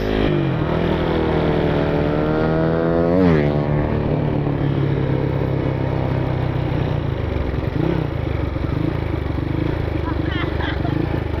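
A Tiger motorcycle with a standard engine and a full Herex exhaust idles loudly and close by, then revs up in a sharp rising sweep before settling back into a steady, rumbling idle.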